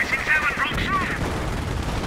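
Rapid gunfire rattles amid a chaotic battle mix in the video game Company of Heroes, with whistling tones and a faint voice.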